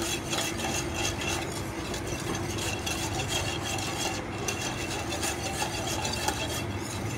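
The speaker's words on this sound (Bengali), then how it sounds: "তো চিনিটাকে ভালোভাবে মিক্স করে নিব" Steady scraping and rubbing of a spoon stirring sugar into thickening milk in a pot on a gas stove for mango pudding, a continuous close gritty swirl lasting throughout with no voices.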